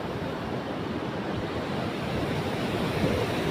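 Sea waves rolling onto a provincial beach, a steady loud wash of surf with wind rushing across the microphone, continuous throughout with no voices.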